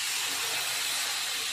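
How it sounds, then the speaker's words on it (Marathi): Milk poured into a hot pan of sautéed carrot halwa over a medium flame gives off a steady, close hissing sizzle that stays even throughout, with no talking. "मी याच्यामध्ये आता दूध टाकून घेत आहे।"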